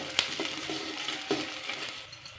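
Chopped onion fries in a pan with cumin and mustard seeds, giving a soft steady sizzle with a few light clinks and stirring taps close by.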